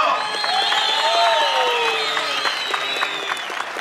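Applause from men at an outdoor fair event, with clapping, scattered whoops and whistling over a lively crowd, fairly loud and steady throughout.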